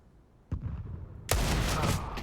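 Desert Eagle pistol fire in a Counter-Strike match on Dust2: a sharp shot cracks out, then after a pause a louder burst of gunfire and echoing reverberation fills the rest.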